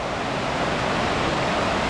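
Rushing water from rapids on a creek along the trail from Multnomah Falls to Larch Mountain makes a steady, broad hiss and roar that is close by and continuous with no break.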